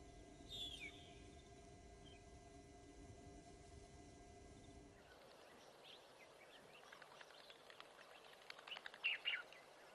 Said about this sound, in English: They were Egyptian geese.